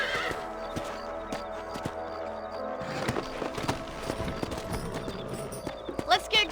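Horses in the video game Red Dead Redemption thud along with steady clip-clopping hooves and let out whinnies, with a louder burst of hoofbeats and snorting near the end.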